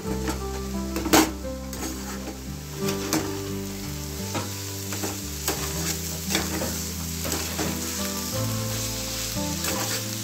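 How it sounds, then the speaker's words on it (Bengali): Chopped vegetables fry in a pan after sugar is added, a loud continuous sizzle with repeated scraping strokes of a spatula as they are stirred steadily throughout. "চিনিটা দিয়ে আবার ভালো করে নেড়ে নেব।"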